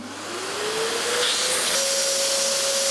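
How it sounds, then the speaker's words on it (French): A vacuum cleaner draws debris through a narrow 16 mm opening, its roaring hiss building steadily while a whining pitch climbs and then holds as the suction strains, with no talk. "Aspirateur."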